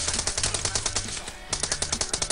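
Rapid bursts of automatic gunfire from the PUBG Mobile battle royale game sound close and loud in quick repeated volleys. A short lull comes midway, then the firing resumes.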